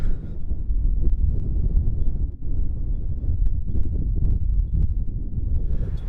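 Strong cold wind buffeting a camera microphone outdoors, loud low rumbling gusts that roar and drop unevenly throughout, no talking.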